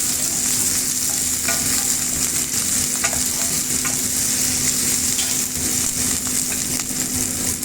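Garlic fries in oil in a pan for pinakbet, giving a loud, constant, close sizzle that crackles evenly and carries through without a break.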